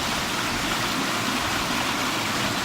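A river pours over a small waterfall in Peru, giving a steady, dense rush of water that stays close and even from start to finish, with no voices.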